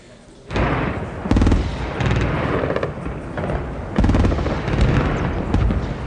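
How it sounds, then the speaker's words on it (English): Anti-aircraft fire over Baghdad during a night attack, sustained heavy booming and crackling bursts rolling in waves, loud and continuous with no talking. "The fiercest anti-aircraft fire of the day"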